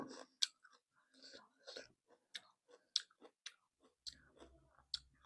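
Crisp, crunchy chewing of pickled jujube fruit up close, with repeated bites and crunches in an irregular rhythm, quiet between chews.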